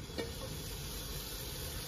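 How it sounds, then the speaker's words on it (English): Chopped wild chanterelle mushrooms sizzle in butter in a pan during camper van cooking, a steady, close, continuous frying hiss with a brief stir clatter near the start. "And listen to the sizzle."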